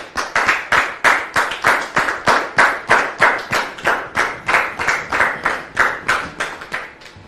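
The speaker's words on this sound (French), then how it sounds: "s'il vous plaît, sous vos applaudissements" A studio audience claps together in a steady, rhythmic beat to welcome a guest onto a French talk show, with loud, evenly spaced hand claps continuing throughout.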